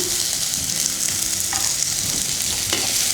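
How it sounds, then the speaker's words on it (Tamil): Bitter gourd and tomato sautéing with salt in a pan for sambar: a steady, loud sizzle fills the whole stretch, with a few soft stirring scrapes breaking through near its middle and end. "இப்போ இதை நல்லா வதக்கிடலாம்"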